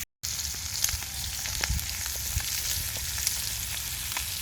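Steak fries over a campfire at a wild camp under a tarp, giving a continuous crackling sizzle with scattered pops and spits, close and moderately loud throughout.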